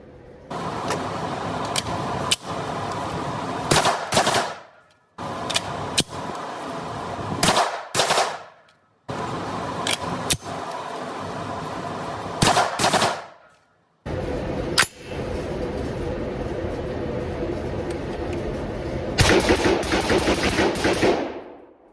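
An AR rifle with a 12.5-inch Hodge barrelled upper fires strings of rapid shots at an outdoor range, loud sharp cracks in several bursts separated by brief silences, with metallic clanks and echoing reports between strings.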